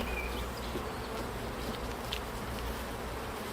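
A dense, steady hum of many honeybees buzzing close by around an open hive, continuous and fairly loud, with no voices.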